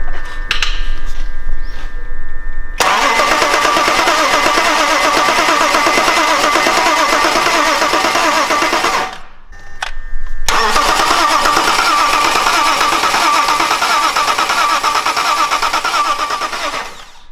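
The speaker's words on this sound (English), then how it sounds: "we want to crank up the engine for a few seconds, so to gain some oil pressure inside the supercharger" A supercharged BMW E46 with the M54 engine cranks with its coil plugs disconnected, the starter churning in a rapid, even rhythm without catching, in two long bursts of several seconds separated by a short pause.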